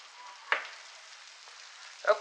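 Chopped onions sizzle in melted butter in a pan outdoors, a soft steady frying hiss broken by two sharp crackling bursts as they are tossed in.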